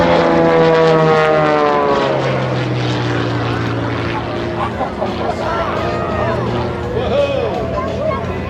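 An aerobatic propeller airplane performs at a 2008 air show at Peachtree Dekalb Airport in Atlanta. Its loud engine drones and shifts pitch as it maneuvers, with crowd babble and an announcer's voice underneath.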